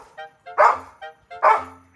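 A dog barks twice indoors, close and loud, each bark preceded by short whiny yips, with quiet gaps between.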